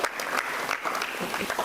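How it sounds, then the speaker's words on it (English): An audience at a St Xavier's School Ranchi book launch welcomes the principal with brisk, loud applause, dense clapping throughout with a faint crowd murmur underneath. "Kindly welcome him with a huge round of applause."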